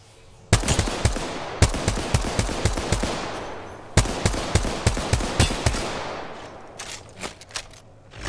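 Gunfire in the video game Apex Legends, rapid loud bursts of automatic weapon fire with sharp repeated shots, a pause, then another long volley trailing into scattered single shots.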